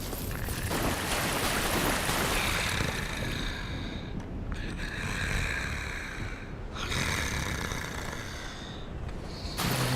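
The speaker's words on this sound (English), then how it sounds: "An ominous sound of someone sleeping and snoring." Ominous snoring of a sleeping creature in the Dark Souls video game, heavy rasping breaths that swell and fade in slow repeating cycles over a noisy, rumbling background, heard without talk.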